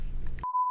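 A single clean electronic beep tone, steady and sustained, breaks in abruptly after a low murmur of background noise and cuts straight through in silence.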